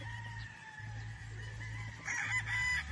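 Yellow Legged and Boston White gamefowl roosters crow nearby, with a long cock-a-doodle-doo call followed by a second, louder crow and some clucking, heard without voices.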